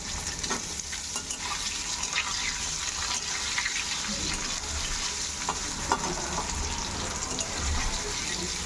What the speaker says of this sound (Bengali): আলুগুলো একটু ভেজে নিচ্ছি ভালো করে